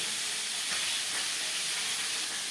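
A shol fish fries in a pan with a dense, even sizzle that continues without a break throughout, close by and fairly loud.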